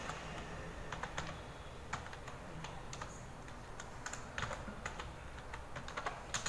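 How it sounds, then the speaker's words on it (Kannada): Steady typing on a computer keyboard while entering text into Adobe PageMaker, a quick run of soft clicking keystrokes close to the microphone with no talking. "ಸೊ ನಾನಿಲ್ಲಿ ಅಡೋಬ್ ಪೇಜ್ ಮೇಕರ್ ಅಂತ ಟೈಪ್ ಮಾಡ್ತೀನಿ"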